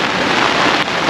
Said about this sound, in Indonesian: Di hujan makin lebat.